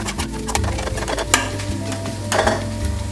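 Crab, prawn and finely chopped garlic with chilli powder, salt, cumin and fennel powder sautéing in a little oil, with steady close sizzling broken by repeated scrapes and clinks of a spoon stirring against the pan.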